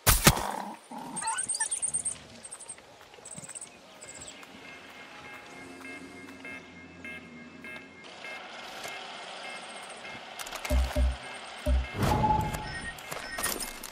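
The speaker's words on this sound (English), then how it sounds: "Dog." Dog barking and growling in Far Cry 6, with bursts near the start and a louder cluster of barks toward the end amid game ambience and mechanical background noise.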